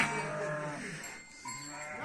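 Nearby sheep bleat in wavering calls in a Turkish village, one after another, with a brief lull between them and a quiet outdoor background.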